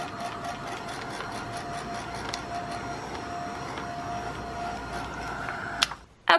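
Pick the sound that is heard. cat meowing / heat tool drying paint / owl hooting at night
heat tool drying paint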